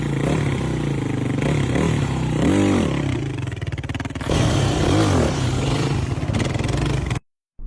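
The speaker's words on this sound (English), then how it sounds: "we're gonna get the bike up with one blip of gas" Motorcycle engine revved with quick throttle blips for sit-down wheelie practice, loud and close, with rising rev swells over a steady idle before cutting off abruptly.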